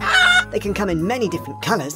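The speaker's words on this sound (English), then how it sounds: "That sound was the noise a chicken makes." A chicken gives a brief, bright cluck at the very start, and then a person talks for the rest of the clip.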